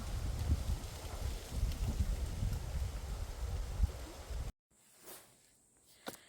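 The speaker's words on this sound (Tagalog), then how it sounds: "Lumalakas talaga yung hangin ha, at malamig na rin." On a mountain, strong cold wind roars and buffets against the microphone in a steady low rush for several seconds, then cuts out, leaving a quieter outdoor scene with a few gusts.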